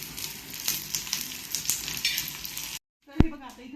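Onion frying golden brown in a pan hisses and crackles steadily up close, then cuts off abruptly. A short clank follows, with a brief murmur of voice.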